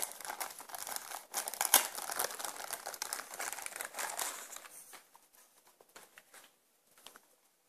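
Plastic and paper packaging crinkles and rustles busily up close while a WD TV Live media player is unpacked, then thins out into a few sparse handling sounds before falling nearly silent.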